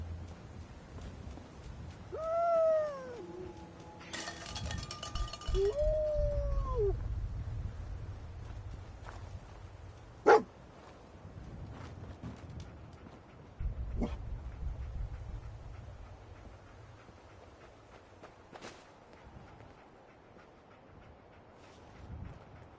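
Dogmeat, the dog companion in Fallout 4, gives a few high whimpering yips and short barks early on, followed by scattered game sounds over a low rumbling background.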